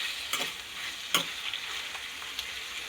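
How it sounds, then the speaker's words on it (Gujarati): Kantola and a tomato being stirred in a pan, a soft sizzle under two or three sharp spatula scrapes against the metal, close and fairly quiet, no voices. "હવે આમાં આપણે ટમેટું એડ કરી દેવું એક, અને એને પણ આપણે મિક્સ કરી લેવું"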